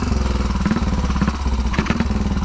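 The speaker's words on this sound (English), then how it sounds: "they are not going to be happy with the noise of my motorcycle" A 1934 Velocette KTT motorcycle runs close by, its engine thumping in a fast, loud, steady pulse with metallic clatter and a slight rise in revs near the end.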